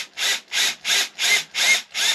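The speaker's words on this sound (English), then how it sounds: "let's go ahead and set my drill bit right perfectly on my hole, and I'm going to go slow" A drill slowly boring a hole in a break-barrel airgun to fit a bipod mount, giving six even, rhythmic grinding bursts with short gaps between them, close and steady, with no voices.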